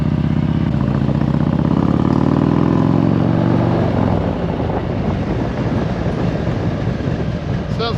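A Harley-Davidson 114 motorcycle engine fitted with a Woods WM822-XE cam idles loud and close, its deep throbbing rumble strongest for the first few seconds before settling into a rougher, steady roar.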